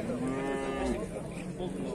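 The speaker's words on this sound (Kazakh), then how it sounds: "Красавчик бұқалары." A bull moos at the Toktogul livestock market, a single drawn-out low call lasting about a second, with market noise continuing afterward.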